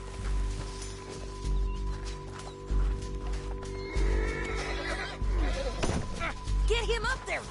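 Horses in the Western game Red Dead Redemption 2 let out repeated whinnies over the clatter of hooves, with game music humming underneath and characters shouting over the commotion.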